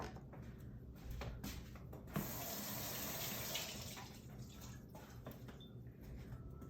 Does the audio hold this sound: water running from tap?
yes